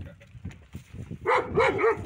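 A dog in a countryside village barks three times in quick succession, fairly close, after a stretch of low murmuring voices.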